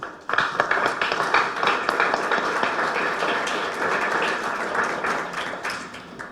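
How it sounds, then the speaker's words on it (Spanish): An audience at a federal programs inventory seminar gives a strong round of applause to welcome the speaker, a loud, dense burst of many hands starting sharply and continuing steadily, with no talking over it. "te damos un fuerte aplauso"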